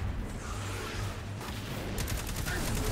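Steady rapid gunfire in Destiny 2 rattles on without pause, loud and dense, mixed with whooshing effects and game noise, with a brief crackle of repeated shots toward the end.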